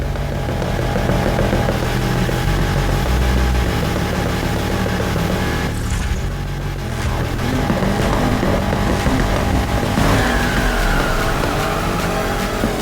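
Need for Speed Heat racing game with a loud, continuous engine roar and revving, plus tire squeals and skidding as the car speeds along, all from in-game audio.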